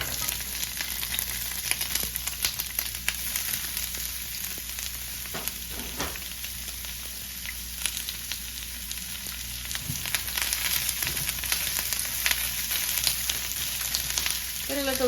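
Onions and peppers sautéing in olive oil in a pan for chicken fajitas, a steady, dense sizzle with crackles and occasional stirring sounds, close and constant throughout.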